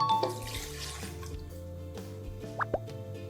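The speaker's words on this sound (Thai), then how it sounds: "เทส่วนผสมทั้งหมดนะคะ ลงไปที่โถปั่นเลยนะคะ เริ่มจากนมสดก่อนนะคะ ปริมาณ 50 ml ค่ะ" Fresh milk, about 50 ml, poured into a blender jar while making a blue sky yoghurt drink. A short liquid pour with a few plops and drips, close and fairly quiet, with no talking.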